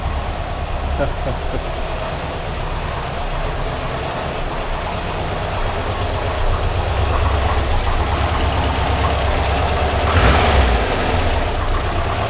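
An air-cooled engine in a 1982 VW Vanagon Westfalia runs steadily with a low, rumbling drone, close and continuous, with a brief rev partway through.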